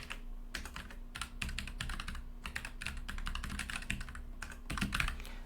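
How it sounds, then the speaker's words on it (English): A computer keyboard being used to type an email address, a quick steady run of close, crisp keystrokes with a few short pauses, over a low electrical hum. "I'm going to type that in there."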